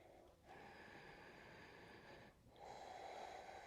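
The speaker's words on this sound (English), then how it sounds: "Nice deep Ujjayi breaths." Slow, deep Ujjayi breaths drawn during a seated yoga twist: a soft, steady throat-constricted hiss that rises and falls in long strokes, close and quiet, with no other sound.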